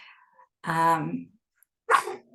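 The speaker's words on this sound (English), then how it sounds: "Just as my dog's barking next door" A dog barking next door: one long, harmonic bark or yelp followed by a shorter second bark after a pause, moderately loud and heard alone.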